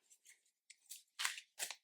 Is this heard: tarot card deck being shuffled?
yes